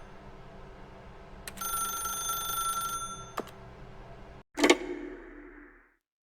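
A telephone rings in The Stanley Parable video game, a bright electronic tone held for about a second and a half. A sharp click follows, then a louder thud with a short fading rumble.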